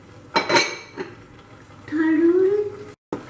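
Millet khichdi with dal and vegetables stirred in a cooking pot: a few clinks and scrapes of a utensil against the pot, then a longer scraping stir, close and moderately loud, with no talking.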